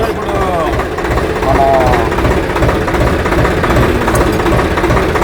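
A Swraj 744 FE 4WD tractor engine runs close by with a loud, steady, rough diesel rumble and knock, and a person speaks over it.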